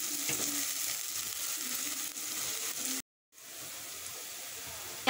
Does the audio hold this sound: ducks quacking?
no